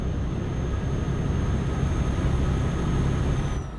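A truck engine drones steadily inside the cab in Euro Truck Simulator 2 with the window lowered, a constant low rumble with wind and road noise and a faint whine, continuous and unbroken.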